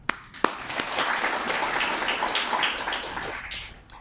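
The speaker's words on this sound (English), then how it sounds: "give ourselves a big round of applause too" An audience at a Cambodian education forum breaks into a short burst of applause, dense clapping that swells and then fades over a few seconds, with a couple of sharp claps at the start.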